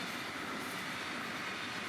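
A Brightline passenger train rolls past on the FEC main line in Fort Pierce, South Florida, a steady broadband roar of wheels and rail noise filling the whole stretch with no talking.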